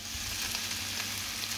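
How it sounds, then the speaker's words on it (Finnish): Food sizzling and crackling steadily as it fries in a pan, a continuous close hiss with no talk over it. "ruoka tirisee"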